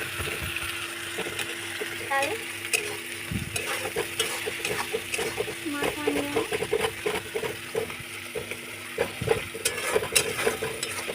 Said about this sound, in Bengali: আমি এখানে আদা রসুন পেঁয়াজ বাটাটাও অ্যাড করে দিচ্ছি বেশ এটা অনেকক্ষণ ভালো করে কষিয়ে নেবো